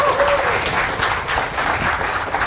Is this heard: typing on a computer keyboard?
no